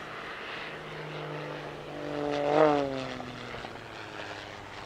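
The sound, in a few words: Edge 540 aerobatic plane performing high alpha snap manoeuvre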